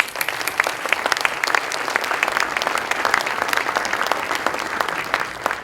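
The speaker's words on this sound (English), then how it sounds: "If we can give them all a round of applause." Audience applause at an energy building conference keynote, a room of people clapping steadily with crisp individual claps audible throughout, fairly loud and sustained.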